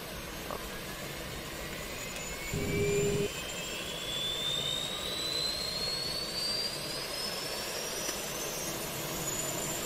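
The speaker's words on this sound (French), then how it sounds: "On entend notre APU qui démarre d'ailleurs" A steady jet-like whine rises slowly in pitch over a broad roaring hum, with a brief low tone near the start: an Airbus A320 auxiliary power unit starting up in a flight simulator.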